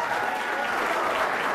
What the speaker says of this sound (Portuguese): Vamos aplaudir o seu Jair, que o seu Jair merece.